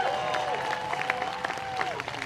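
A crowd at an Extinction Rebellion Festival of Resistance rally cheers and claps for the Iranians, a brief burst of applause and scattered whoops with a voice carrying over it.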